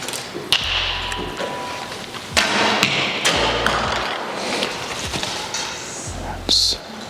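Three shots from a Mathews Lift X 29.5 bow, each a sharp snap followed by a dull thump, spaced a couple of seconds apart at close range, with low background noise between them.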